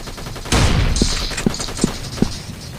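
Gunfire in the Stick Ops video game: a loud burst of rapid shots followed by four evenly spaced single shots, sharp and close.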